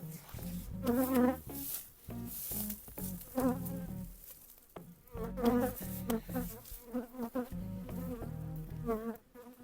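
Honeybees buzz around a relocated hive in an apiary, a close, continuous humming drone that swells and fades as insects pass near, with no talking.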